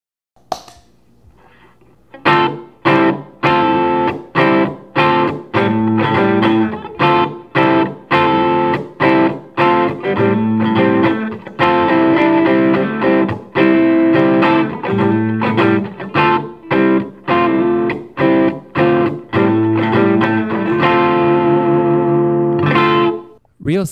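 Electric guitar played through a JHS Klon-style overdrive pedal: a run of loud, driven chords and riffs with crisp, rhythmic stabs and short gaps between phrases, played alone without talk.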